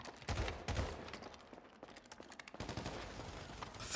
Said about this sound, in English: Fucking Bravo just flooded the fucking place with bullets and killed everybody.